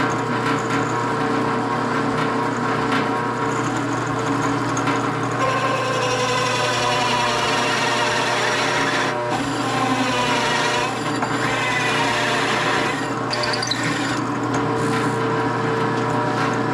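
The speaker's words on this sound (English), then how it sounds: "I have a hole saw set up here in the drill" A power drill fitted with a dull hole saw grinds steadily through wood, a continuous rough whine and rasp that wavers in pitch as the cutter bites, close and loud.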